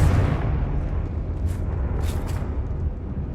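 Confringo blasting spell explosions in the Hogwarts Legacy video game, a steady rumbling roar with a few sharp bursts near the middle and end, loud and close with no talk.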